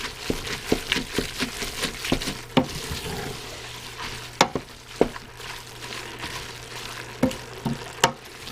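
Homemade pasta sauce ingredients stirred together in a pot, with rhythmic scraping and knocking of a spoon against the pot over a soft wet bubbling, and several sharper clacks spaced through the stretch.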